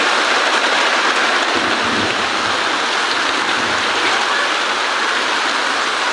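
Downpour of heavy rain beats on surfaces nearby, a dense continuous hiss that stays loud and even from start to finish, with no talking.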